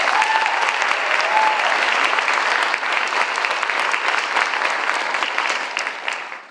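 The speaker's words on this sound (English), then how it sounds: "What another round of applause for them." An audience at an annual arts celebration gives a round of dense, steady applause that holds loud for several seconds and then fades out quickly at the end.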